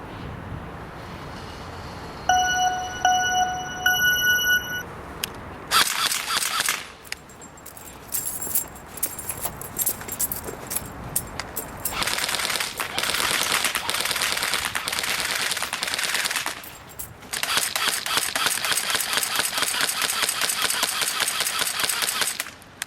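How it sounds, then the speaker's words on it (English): G&G M4 airsoft electric rifle fired on a shooting course, starting with single semi-automatic shots and moving to long rapid full-auto bursts of mechanical buzzing cracks, with pauses between strings. "we're getting ready to run our shooting course with our G&G M4"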